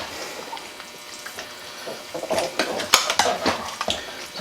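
A spoon stirs Guinness beef stew with beef broth in a pot, starting with soft liquid swishing and building into sharper scrapes and clanks against the pot, close by and without talk.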